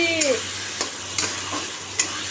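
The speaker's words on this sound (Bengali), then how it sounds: "টমেটো রেডি রেখে এখন মশলা কষাচ্ছি, মাংসের মশলা কষাচ্ছি।" Meat spices being stir-fried with browned onions in a pan, with a steady low sizzle and a few soft spatula scrapes spaced through the stretch, close by and alone.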